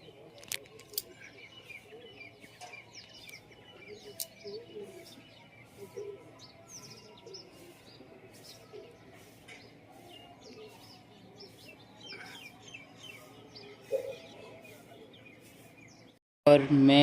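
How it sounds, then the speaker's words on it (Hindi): Birds chirp and tweet in short, scattered calls across a quiet open-air setting, fairly distant, with a brief louder burst at the very end. "देखो पक्षियों की आवाज़ कैसे सुनाई दे रही"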